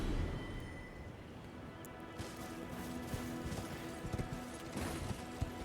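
Hooves of a horse being ridden through open terrain in Elden Ring, a soft, uneven series of thuds and clops under a continuous ambient wash, with a few sharper hits late on.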